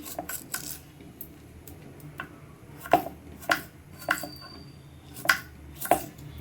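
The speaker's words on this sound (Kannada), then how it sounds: "ಈಗ ಸಣ್ಣ ಕಟ್ ಮಾಡ್ಕೊಳ್ಳೋಣ ನಿಮ್ಗೆ ಎಷ್ಟು ಸಣ್ಣ ಬೇಕೋ ಅಷ್ಟು ಸಣ್ಣಕ್ಕೆ ಕಟ್ ಮಾಡ್ಕೊಳ್ರಿ" A knife chops cucumber into small pieces on a board, a series of crisp, close taps, sparse at first and then a steady run of about six louder strokes, alone with no talk.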